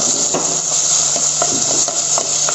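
Garlic, green chillies, ginger and curry leaves sauté in hot oil in a pan for a Malabar-style crab curry, giving a loud, continuous close sizzle with light stirring clicks.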